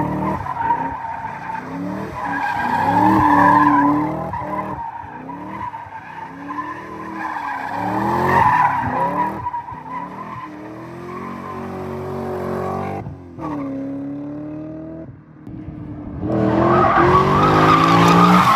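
Tires squeal repeatedly in long wavering screeches as a BMW M5 E39 drifts, engine revving and surging underneath, loud and close with no voices.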